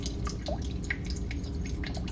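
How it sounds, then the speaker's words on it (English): Water drips falling from a cave stalactite one after another at an irregular pace, clear plinks over a low, steady rumble of a large, echoing cavern. "The hypnotic sound of the water dripping down the stalactite"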